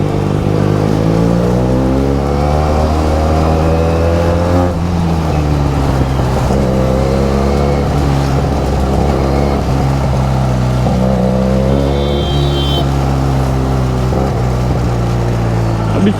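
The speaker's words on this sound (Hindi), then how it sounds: "अभी छोटे छोटे गेयर पे भी भाई बाइक बैक फायर मारती है।" Benelli 302R motorcycle revving in low gears with backfires, a throaty engine note that rises and falls in pitch across several pulls, close and loud with no talk over it.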